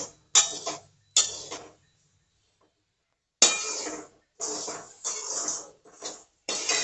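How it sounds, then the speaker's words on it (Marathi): Peanuts stirred in a pan while roasting, a spoon scraping and clinking against the metal in short bursts, with a quiet pause between strokes. "परत मिक्स करत करत भाजून घ्यायचं आहे"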